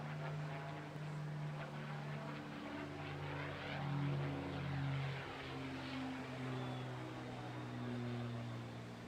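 A Supermarine Spitfire Mark 9E propeller fighter drones steadily through a flypast at an air festival, a sustained far-off engine hum that swells gently near the middle.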